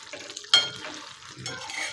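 Stuffed eggplants frying in a pan are stirred and turned, giving a sharp scrape near the half-second mark, then softer scraping and a light sizzle throughout, close and moderately quiet.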